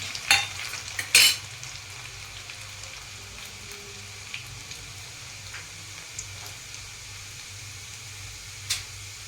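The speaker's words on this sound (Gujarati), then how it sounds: "ચાર 5 કળીને લસણની લીધી કટ કરી સૂકું લસણ એ નાખીશું." Chopped dried garlic cloves drop into hot oil already seasoned with cumin. They give an opening burst of loud crackling that settles into a steady sizzle, broken by occasional clinks of a spoon.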